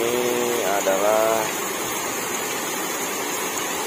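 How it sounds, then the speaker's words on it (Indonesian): Overflowing rainwater rushes through a small river carrying rubbish, a steady broadband roar of fast water close by, with a voice speaking briefly at the start. "luapan air dari air hujan sampai hitam sekali dan menghanyutkan sampah-sampah yang tertumpuk di sungai."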